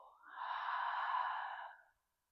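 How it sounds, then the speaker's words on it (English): A single deep exhale through the mouth at the close of a yoga practice, a soft, breathy whoosh lasting under two seconds that swells and fades into silence. "release our practice with a deep breath in the nose, out the mouth"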